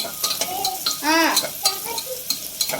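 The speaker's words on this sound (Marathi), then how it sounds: "आणि आता कांदा बघा चांगला भाजत आला" Onion frying in a pan for a whole masoor curry gives a soft sizzle broken by clinks and scrapes of a spoon stirring, while a voice briefly talks over it.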